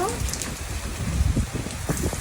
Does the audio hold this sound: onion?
no